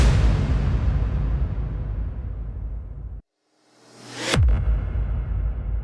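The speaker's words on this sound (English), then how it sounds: "Then I'm also using some impact samples," A deep booming impact sample from a stem pack decays into a sudden cut, then a rising sweep builds into a second heavy hit with a low rumbling tail.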